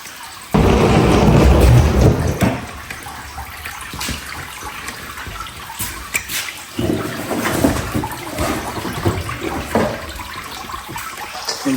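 Dirty water from a Hotsy pressure washer being cleaned out is dumped into a pan, giving a loud gush and splash that tapers into trickling and dripping.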